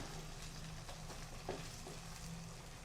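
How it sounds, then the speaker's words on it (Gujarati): Gram flour fries in hot oil with a faint, soft sizzle and a few light stirring scrapes, heard close but quiet, with no talking. "આમાં તેલમાં આ રીતે ફ્રાય થવા દેવાના છે લોટને સરસ વઘારને મિક્સ થઈ જાય"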